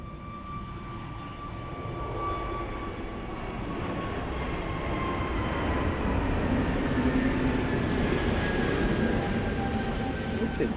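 Airbus A320neo jet taking off at Lisbon Airport, a steady broad roar that swells gradually and stays loud throughout, with a faint whine running over it.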